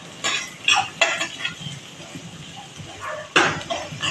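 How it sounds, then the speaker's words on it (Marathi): Cooked taro (colocasia) leaves are poured into a pot over a spice tempering with turmeric. The pouring brings a few sharp, close clattering bursts from the pot and utensil, with quieter scraping between them. "आता मी याच्यावर शिजवलेलं अळू ओतणार आहे."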